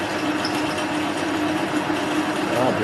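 A metal lathe takes a heavy coarse-feed cut on steel rebar, giving a steady, dense mechanical whir and grinding hum that holds at an even loudness throughout with no speech.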